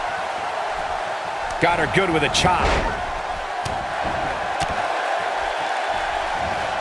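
A Tokyo arena crowd in WWE 2K18 gives off a steady roar of cheering throughout, with a brief thud of a wrestling strike and a commentator talking over it.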